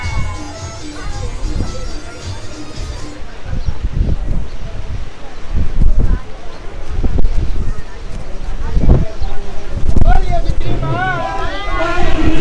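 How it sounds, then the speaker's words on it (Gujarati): Strong wind buffeting a hilltop temple, gusty roaring and rumbling across the microphone with crowd babble and a speaking voice underneath. "માતાજીના ડુંગર ઉપર મિત્રો પવન ખૂબ જ છે અત્યારે."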